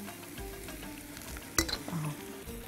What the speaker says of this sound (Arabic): افضل اقلبها كده كويس، ممكن احط لها بس معلقه زيت كمان عشان تتشوح حلو